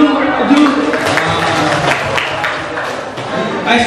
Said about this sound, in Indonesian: Coba beri tepuk tangan dulu Pak Zul.